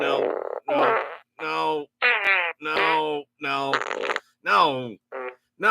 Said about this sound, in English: stop with all every single catalog fart sound